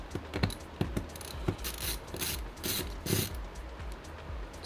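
A ratcheting screwdriver loosens small Phillips head screws on a Dell Inspiron 14 laptop LCD cover, a close, quiet run of rapid irregular clicks and light mechanical rattles.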